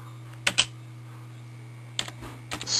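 A few keystrokes on a computer keyboard, two quick clicks then a short pause before another brief burst of taps, close and clear over a low steady hum.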